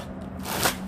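A brief, quiet riffle of cards being shuffled, a soft papery flutter peaking near the end.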